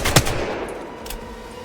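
R-301 rifle firing in the video game Apex Legends, a single loud, sharp gunshot near the start followed by a short echoing tail and a fainter second report as the sound dies away.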